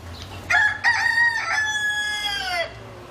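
A cockerel kept in a garden gives one loud, clear cock-a-doodle-doo crow, close by and lasting about two seconds, with no voices over it.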